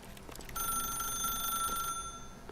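A telephone rings in The Stanley Parable, its bright repeating electronic trill sounding close and steady for about a second and a half after a quiet start, with no talk over it.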